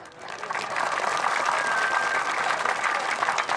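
Audience applause at a literary lecture in Zeegone town, a dense, sustained crowd clapping that swells within the first half second and holds evenly to the end, with faint voices beneath.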